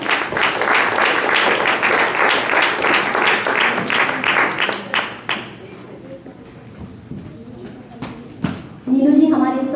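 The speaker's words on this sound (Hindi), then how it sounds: "जोरदार तालियां।" Enthusiastic applause at an annual function of a Hindi cultural organisation, a crowd clapping loudly and rhythmically before it tapers off into scattered claps, with a voice speaking briefly at the end.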